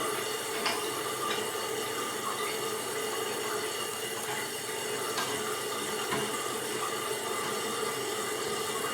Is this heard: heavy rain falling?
no